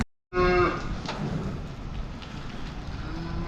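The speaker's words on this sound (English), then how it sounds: "Cow and calf in the shed." Cattle in a farm shed during the winter routine, a cow and calf mooing loudly and close by, with a long sustained low call over steady barn background noise.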